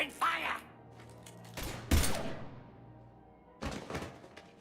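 Bursts of gunfire from Mass Effect 3 break out in short loud clusters, one near the start, a heavier volley midway and another toward the end, over a low game hum with brief voice sounds.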